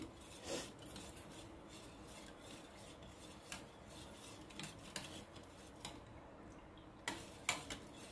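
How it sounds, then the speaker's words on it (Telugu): A spoon clinks and scrapes against a glass while stirring rose milkshake powder and sugar into cold milk, with quiet, irregular metallic taps close by over a soft background. "ఇది బాగా కలపాలి, కింద షుగర్ ఉంటుంది కాబట్టి బాగా కలుపుకొని"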